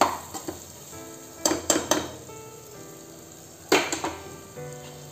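Spices sauté in a pan for soya chunk biryani, a soft close sizzle broken by bursts of spatula scrapes and clanks against the metal pan.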